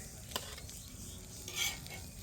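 Chicken and egg sandwiches frying in a pan, a soft continuous sizzle with a sharp scrape near the start and another brief burst toward the end, quiet and close.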